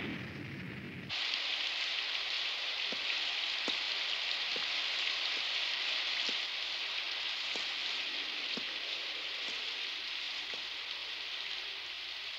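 Steady rain pours down in a dense, even hiss, with occasional louder individual drops tapping nearby, continuing unbroken with no voices.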